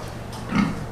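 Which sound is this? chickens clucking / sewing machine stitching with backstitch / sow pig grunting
sow pig grunting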